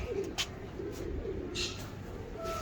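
Soft, low pigeon cooing repeats a few times over a steady background hum, with a couple of brief higher chirps; no talking.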